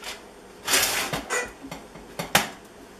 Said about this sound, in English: Put the tray into the toaster oven now.